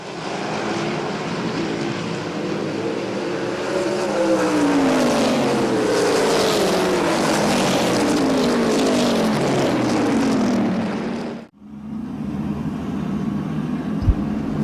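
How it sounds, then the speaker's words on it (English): Race cars roar around the Midvale Speedway track, a dense loud engine drone with pitch sweeps as the cars pass wheel to wheel, then a sudden drop and quieter engines continuing. "Cars wheel to wheel, entering turn 3."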